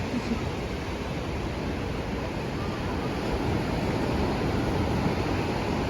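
Sea waves break steadily on a beach where surfers ride modest waves and small round Vietnamese basket boats head out, a continuous broad wash of surf under wind noise with no clear individual crashes.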